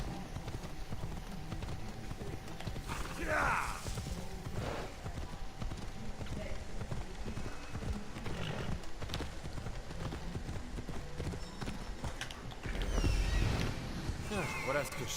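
Horse hooves clip-clop steadily in Assassin's Creed Odyssey as a horse is ridden at a trotting pace, with someone speaking French over the hoofbeats and ambient game sound.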